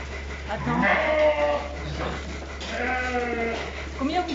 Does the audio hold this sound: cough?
no